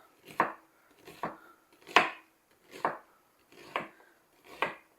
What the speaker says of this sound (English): Get all this onion peeling off of here. And I'm just going to cut this up relatively small.